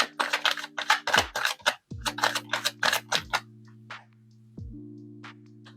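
Tarot cards are riffled and shuffled in close bursts of crisp, rapid flicking, broken by short pauses, until a card flies out. No one speaks.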